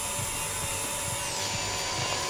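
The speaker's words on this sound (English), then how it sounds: "Oh, the drill is right next to us." A drill in the horror game Stories Untold whirs steadily with a high, constant motor whine and a pitch shift partway through, close and loud, with faint rhythmic thuds beneath.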